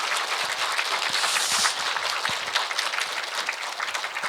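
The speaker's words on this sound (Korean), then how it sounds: "이런 큰 박수는 처음 거의 들어보셨죠." An audience at a humanities lecture applauds warmly, a close, continuous patter of many hands clapping at steady volume for over four seconds, with no voices over it.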